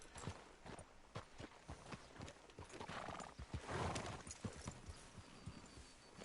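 Horse hooves in Red Dead Redemption 2 clip-clop at a steady walking rhythm, a continuous run of quiet, evenly spaced hoofbeats with a snort or whinny mixed in.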